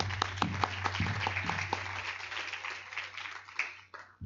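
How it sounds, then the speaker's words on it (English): An audience at a Model UN opening ceremony applauds, with sharp individual claps at first that blend into a steady round of clapping and then taper off toward the end. "Big round of applause for Nirvana, everybody."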